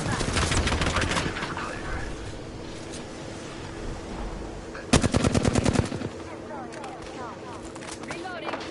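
Gunfire in the battle-royale shooter Apex Legends comes in scattered shots, then a loud, close rapid automatic burst about a second long, with game sounds and talk around it.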